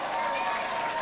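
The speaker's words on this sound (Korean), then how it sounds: "박수 감사합니다." A crowd at a political campaign rally in Yeongdeungpo, Seoul, claps and cheers in a steady, dense wash of applause that fills the whole moment without a break.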